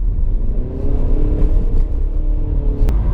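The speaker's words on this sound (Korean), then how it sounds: "지금처럼 한 80, 90 정도로 정속 주행을 하면은 어, 타이어 소리만 들어와요." Tire roar inside a Renault Samsung SM6 LPe (LPG) sedan cruising steadily at 80–90 km/h, a continuous low rumble and road hum with a faint whir, no voices.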